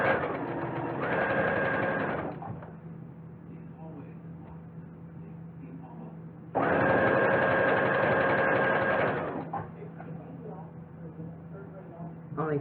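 Sewing machine stitching a pair of pants, running loud and close in two steady bursts of about two and three seconds, with a quieter hum in between.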